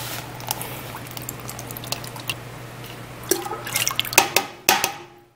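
Worcestershire sauce is poured in a home kitchen while making a smoked tomato Bloody Mary mix; faint drips and trickling liquid build into a few louder splashes and clinks near the end.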